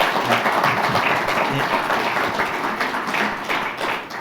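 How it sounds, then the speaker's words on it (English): Audience applause for conference panelists, a dense patter of clapping that stays fairly loud and even before easing slightly toward the end. "Could we applaud our panelists again one more time?"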